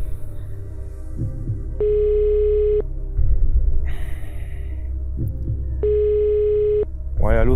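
A telephone rings at the far end while a friend is being called, giving two long, steady electronic tones separated by a pause. A low hum and some background noise sit under the tones.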